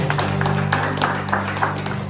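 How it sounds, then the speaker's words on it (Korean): A church congregation bursts into steady applause during a worship service, dense and fairly loud clapping from many hands over a constant low hum, with no clear speech. "우리 주님 앞에 영광의 박수 올려드릴까요?"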